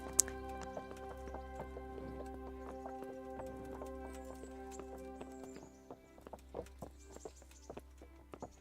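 Horse hooves clip-clop steadily in the medieval game Kingdom Come: Deliverance, trotting under a droning music bed with a few sharper hoof strikes near the end.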